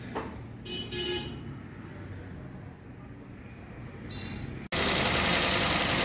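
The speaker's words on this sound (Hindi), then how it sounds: "कंप्लीट गाड़ी हमारी स्टार्ट हो गई है, तो बिल्कुल इंजन चल रहा है" A rebuilt Maruti Suzuki Wagon R engine runs steadily at idle with its exhaust and silencer fitted. A continuous engine drone builds up, then grows suddenly louder and brighter near the end.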